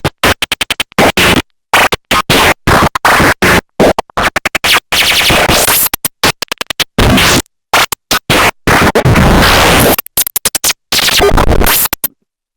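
A drum rack sample layer with pitch automation plays alone as loud, choppy bursts of glitchy, stuttering hits, separated by abrupt silent gaps.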